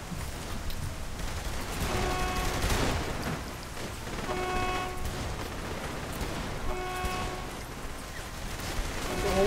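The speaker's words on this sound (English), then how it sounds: "There's a whole lot of shooting going on over here." Bursts of gunfire ring out in the open-world game Saints Row 3, scattered rapid shots rising and falling amid engine hum and game noise, with voices talking faintly underneath.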